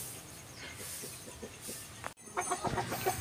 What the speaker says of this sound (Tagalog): update muna tayo sa ating mga alagang mga manok